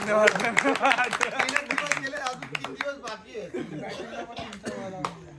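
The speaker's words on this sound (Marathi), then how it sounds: "आणि एकदा आपल्या ब्लॉगर साठी पण टाळ्या" A group of pilgrims on a walking pilgrimage from Thane to Shirdi claps for the blogger, with quick, uneven claps up close mixed with chuckles, laughter and chatter.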